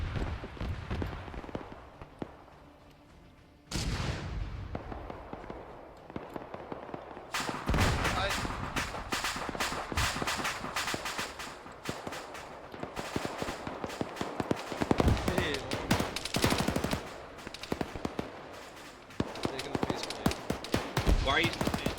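Artillery fire support and small-arms gunfire in Arma 3, a sustained stretch of rapid cracking shots and booms under intermittent talk over radio chatter.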